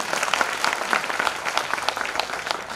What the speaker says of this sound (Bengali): স্যারকে আবারও জোরে করে তালি দিয়ে একটা অভিনন্দন জানাই